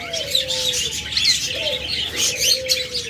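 Pet lovebirds, cockatiels and budgerigars chirp together nearby, a busy overlapping mix of tweets and short whistled calls with no pauses.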